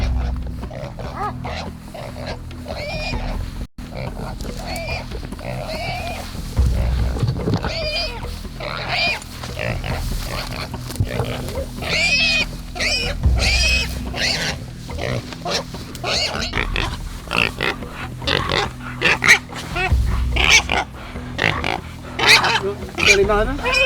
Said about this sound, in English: trained pig dogs can locate pigs hiding in long grass